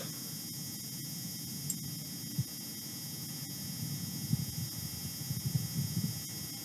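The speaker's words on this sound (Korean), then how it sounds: "화성의 이제 바람 소리와 이 기계 소리입니다" Wind on Mars recorded by the Perseverance rover: a faint, low, steady rumbling hum with a few soft ticks and clicks from the rover's machinery, gusting a little louder near the end.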